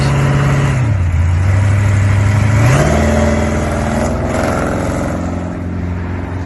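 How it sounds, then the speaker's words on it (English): 1966 Oldsmobile Cutlass with a 440 big block and 671 blower, revving loudly up from a low idle, the engine note climbing and falling before settling into a rough, throbbing idle, no talking. "It's powered by a 440 big block with a 671 blower."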